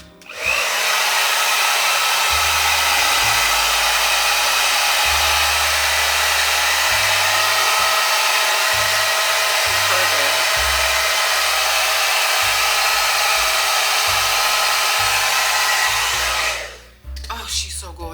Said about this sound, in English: take my blow dryer and